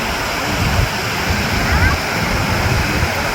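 Rushing water at a waterfall gives a steady, dense, hissing roar that runs loud and unbroken from start to end, with faint splashy detail over it.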